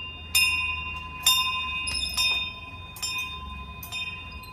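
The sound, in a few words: hand bell ringing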